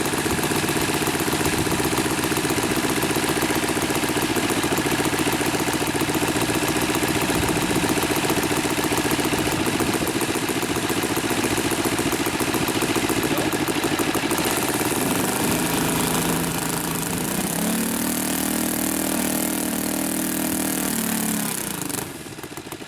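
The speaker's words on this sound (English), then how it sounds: "And this is a inline 4-stroke engine, so a very unique sound, very smooth running." An inline four-stroke engine on a quarter-scale Hurricane model plane runs smoothly and loudly up close with a steady, fast rhythmic beat, then changes pitch as the throttle shifts near the end.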